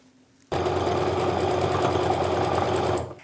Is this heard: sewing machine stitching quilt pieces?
yes